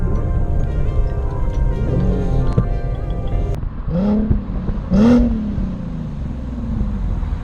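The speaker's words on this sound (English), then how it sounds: "Just check out these downshifts." An Infiniti Q70 with a 3.7-liter V6 and automatic transmission downshifts, its engine note rising in two distinct blips around the middle, steady and fairly close over a continuous drivetrain hum, with no talking.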